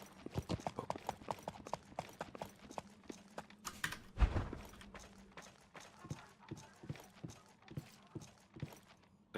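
Steady clip-clop of horse hooves in a video game, an even trotting rhythm of sharp close hoofbeats running throughout with a louder thud midway.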